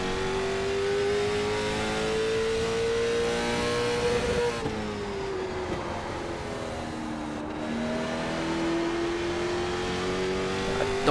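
A late model stock car engine in iRacing at Martinsville, droning steadily under throttle and then rising in pitch as it accelerates out of a corner. The engine note is loud and continuous throughout.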